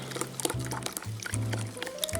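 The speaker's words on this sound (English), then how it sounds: "Now we just pour this over the bread." A milk and cream mixture pours from a measuring cup over bread for a pumpkin pie breakfast casserole, giving soft close liquid splashes and gurgles with a few brief tonal glugs. The sound is quiet and unbroken.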